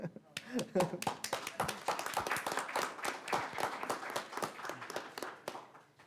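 Scattered hand clapping in a city council meeting room, a series of sharp separate claps that rise and thin out, with people talking over them.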